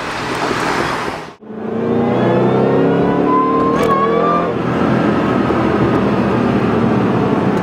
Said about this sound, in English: Hear the whine from the supercharger.